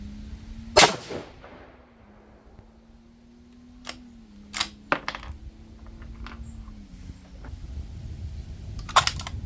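A single sharp cold-bore shot from a 6 GT rifle cracks out early, followed by quieter clicks and clatter with a low steady hum underneath.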